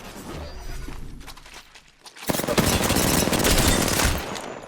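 Gunfire in the video game Apex Legends, first a quieter burst of shots, then after a brief pause a loud, sustained barrage of rapid automatic fire that dominates the rest.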